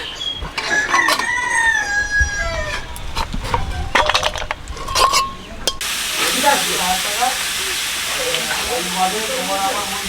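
Soybean chorchori cooks on a gas stove: voices and a crowing rooster come first, then a steady, loud frying sizzle with stirring takes over for the final seconds.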